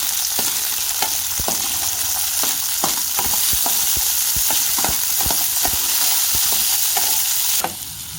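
Peas sizzle and crackle steadily in a hot pan, with sharp pops and stirring clicks scattered throughout; no talking.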